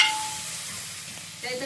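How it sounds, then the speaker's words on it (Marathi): Tempering (phodni) sizzles in a pan in a home kitchen, a steady bright hiss held evenly throughout, with a short burst of louder crackle near the end. "बघा दिली फोडणी."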